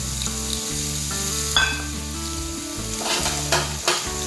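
Raw mango pieces drop into hot spiced oil, and a steady, bright sizzle runs under loud background music.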